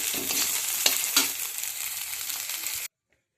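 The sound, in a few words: tempering sizzling in a pan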